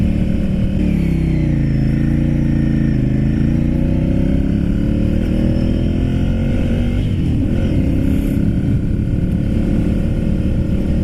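Ducati Monster 796 motorcycle riding along, a steady loud engine drone with shifting pitch as it revs and changes gear, wind rush throughout, no voices.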